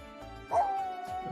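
A dog barks once and whimpers in the Sims 4 video game, a short, fairly quiet yelp with a trailing whine.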